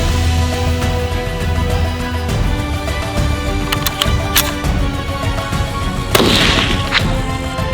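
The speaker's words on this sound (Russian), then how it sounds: "Сейчас выстрел был произведен с СКС." A few sharp rifle cracks ring out midway, followed by a louder, longer SKS rifle gunshot blast near the end over a steady background rumble.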